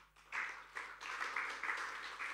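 A church congregation bursts into applause during a Sunday worship service, a dense, steady wash of many hands clapping that starts abruptly and holds for a couple of seconds in a reverberant hall.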